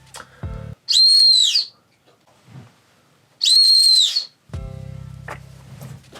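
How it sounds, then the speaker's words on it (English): A shrill safety whistle built into a grey Salehe Bembury x New Balance Yurt 574 sneaker gives two piercing, bird-like blasts, each about a second long, close and very loud against near silence. "So I'll demonstrate the whistle. It's quite shrill. It sounds like a bird whistle."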